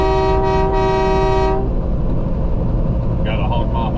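A loud, sustained train horn fitted to a truck sounds for about a second and a half, then cuts off, leaving heavy engine rumble and faint tones.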